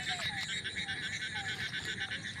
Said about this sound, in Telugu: చూడండి కప్ప.